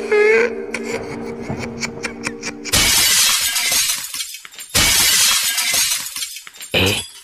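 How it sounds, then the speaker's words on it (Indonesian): Glass shatters in several sharp bursts, each a loud bright crash of breaking pieces followed by tinkling fragments, after a short stretch of ringing clinks at the start. "Kok ada suara itu lagi, seperti pecahan kaca atau gelas?"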